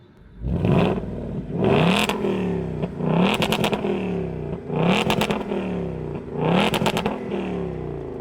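A 2024 Ford Mustang GT engine with a 10-speed automatic revs hard four or five times in a row, each roar climbing quickly then dropping back, loud and close.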